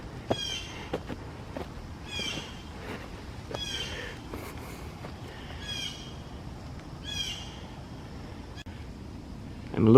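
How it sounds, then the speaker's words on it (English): Birds sing in a quiet park on an early morning hike after light overnight rain, with repeated short calls rising at a moderate distance over faint background ambience. "I love listening to the birds."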